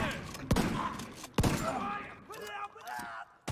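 Gunfire in the shooter game The Division 2: two sharp shot bursts stand out near the start, followed by scattered crackling action and ragged game noise, with no talking over it.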